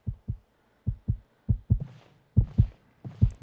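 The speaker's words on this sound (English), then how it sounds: "We can hear the sound of our heart beating." Heartbeat sound effect in a video game: deep, muffled thumps in paired lub-dub beats, about five double beats at a steady tense pace, close and prominent with no talking.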